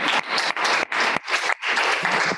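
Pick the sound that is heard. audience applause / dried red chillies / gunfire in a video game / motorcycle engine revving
audience applause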